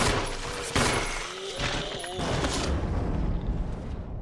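Gunfire in Resident Evil Remastered, a burst of game shots and mechanical clatter amid dense sound effects, with a voice talking over parts of it.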